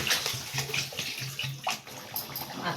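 Water being poured into a pot of Odia fish ambila, a steady splashing pour with gurgling bursts, close and continuous with no talk.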